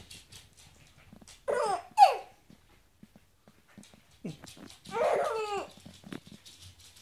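A dog gives a few short barks and yelps indoors at home, heard in scattered bursts amid quiet gaps, with a child's babbling and soft voices close by.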